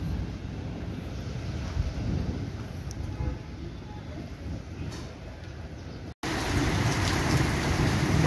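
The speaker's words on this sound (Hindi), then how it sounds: "बारिश थोड़ी ज्यादा जोर से आ गई है" Steady heavy monsoon rain in Udaipur pours down with a dense hiss, mixed with wind rumbling against the microphone; it cuts out briefly then resumes louder.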